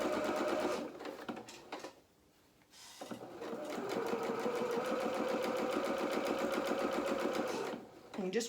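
Sewing machine stitching a dress seam, a fast even needle chatter in two bursts with a short pause between, close and clear while a voice talks quietly alongside.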